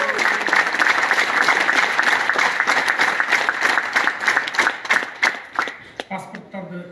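An audience in Moscow standing and applauding at a meeting with Sadyr Japarov, loud dense clapping that holds steady, then thins into scattered claps and fades out near the end, with voices underneath.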